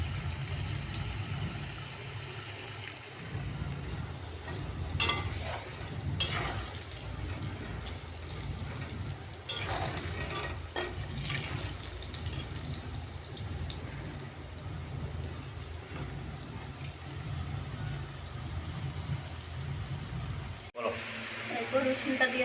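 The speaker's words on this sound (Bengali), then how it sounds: "দেখো আলুটা ভাজা হচ্ছে" Potatoes fry in a pan with a faint, steady sizzle and crackle that continues for over twenty seconds, with light stirring clatter and a voice speaking quietly at times.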